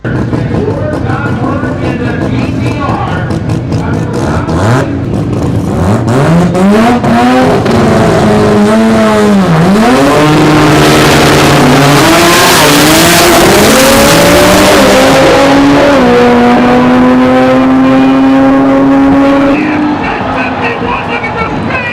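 A Nissan GT-R R35 drag car in a quarter-mile pass, its engine revving hard through rising and falling gear-change sweeps, loud and close, with tire squeal and crowd or announcer noise mixed underneath.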